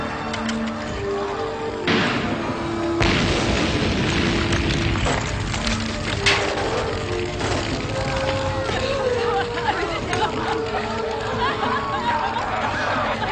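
Weapons fire and explosions in the Captain Power and the Soldiers of the Future TV series, sharp cracks and booms scattered over a dense mix of shouting crowd voices and sustained electronic tones.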